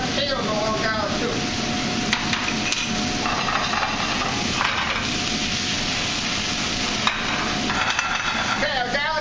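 Fresh chopped garlic frying in a pan for chicken Marsala, a steady close sizzle with scattered clanks and scrapes of a utensil against the pan.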